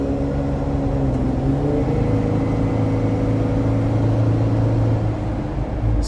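A Jeep Wrangler 3.6 V6 with an aFe exhaust holds a steady, smooth engine drone with a slight rise in pitch, heard from inside the cab with the windows up and the hardtop on, continuous and moderately loud with no talking.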